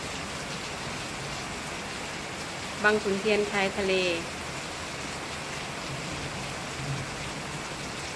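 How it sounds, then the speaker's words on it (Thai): Steady broadband hiss of rain falling throughout, with a brief spoken phrase partway through riding over the downpour. "มื่อนี้ฝนตกชื้นฉ่ำค่ะ"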